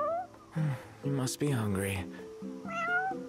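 A stray cat in the Final Fantasy XV video game gives several drawn-out, rising meows, close and clear, while someone speaks to it in between the calls.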